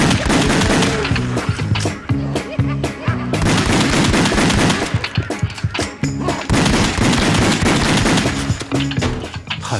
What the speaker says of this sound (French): Écoutons la musique pendant que je tire sur ces gens